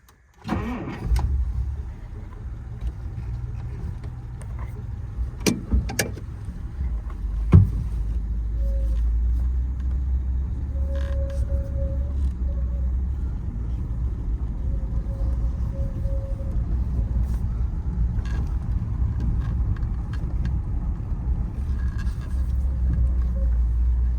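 A 1947 Dodge Town Sedan with a flathead six-cylinder engine starts and idles into a low steady rumble, with a few clicks and clunks early on, close and continuous, no talk.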